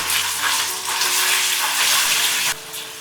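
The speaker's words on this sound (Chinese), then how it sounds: "鍋裡放少許底油，把醃制好的雞肉平鋪進鍋，" Marinated chicken sizzles loudly in a little oil in a wok, a close, bright, continuous frying hiss that dips slightly near the end.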